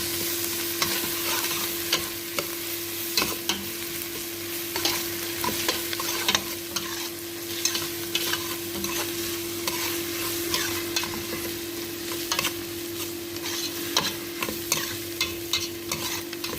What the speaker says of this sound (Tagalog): ilagay ko yung bawang at saka luya